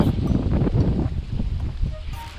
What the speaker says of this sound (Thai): วันนี้อุปสรรคคือ ลมแรงถ้าเห็นนะครับลมยังกับพายุเลย